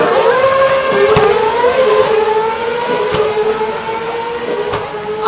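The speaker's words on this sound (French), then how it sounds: "C'est presque le freinage qui est le plus impressionnant." A Formula 1 car roars past at Paul Ricard circuit, its high-pitched engine note dropping as it brakes hard, with a loud sustained whine and brief downshift blips.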